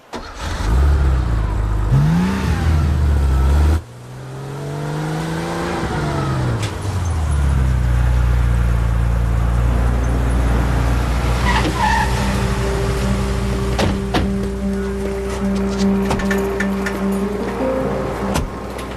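A car engine runs loudly close by, revving and accelerating with rising and falling pitch, then settling into a steady idle rumble alongside a brief screech.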